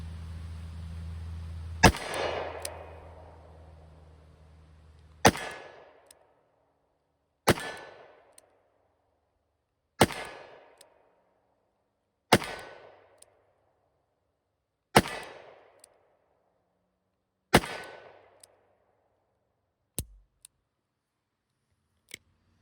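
A Taylor's 357 revolver slow-firing PMC 38 Special rounds outdoors at a 20-yard target: seven sharp, loud shots spaced about two and a half seconds apart, each ringing out into quiet, with a faint click after.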